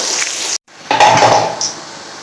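Sliced onions frying in oil in a pot for kaddu gosht give a bright hiss, then a metal utensil clatters against the pot. The sizzle breaks off briefly and returns louder, with a close, busy stirring scrape and no voices.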